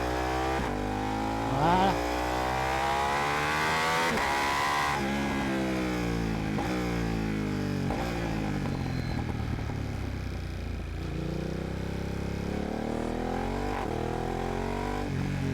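A car engine revs hard in first gear, pitch climbing in repeated sweeps up and down and then settling into a throaty rumble, close and loud, with a man's brief remark over it.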